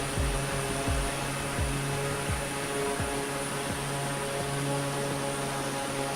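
Light aircraft engine in Microsoft Flight Simulator drones steadily and loudly at a constant pitch, with a rhythmic low pulsing through the first half and no talk over it.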